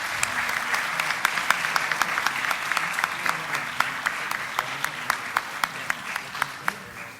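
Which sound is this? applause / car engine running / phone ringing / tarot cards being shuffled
applause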